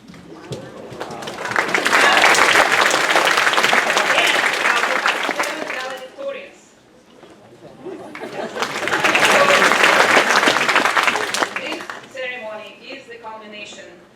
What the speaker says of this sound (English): Let's applaud you for this.